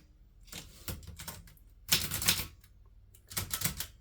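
Vintage 1960s Groma Kolibri N manual typewriter being typed on, quick clusters of sharp key strikes with louder bursts between brief pauses, close and alone.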